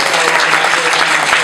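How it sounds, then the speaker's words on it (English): A round of applause for panelists closing a public forum, dense and continuous clapping from a seated audience, loud and close throughout. "Please give a round of applause to our panelists"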